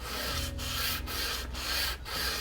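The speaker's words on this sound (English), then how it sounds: "Surfacing granite, 120 grit sandpaper." A Japanese hand plane is rubbed back and forth on 120 grit sandpaper laid over a granite surfacing plate, giving a steady, close gritty rasp with four brief dips marking the stroke changes.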